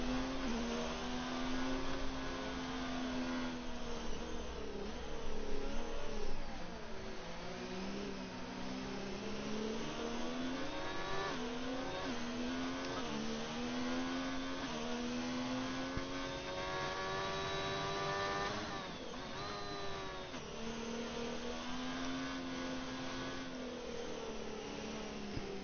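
Onboard F1 race car engine during a formation lap in the video game F1 2019 at Bahrain, a continuous droning whine that rises and falls in pitch with throttle, steady and close with no talk.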